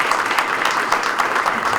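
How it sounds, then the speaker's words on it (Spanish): Applause fills a hall at a Day of Human Rights address by El Salvador's attorney general, a dense, even clatter of many hands clapping close up, sustained for nearly two seconds. "Eso también merece un gran aplauso."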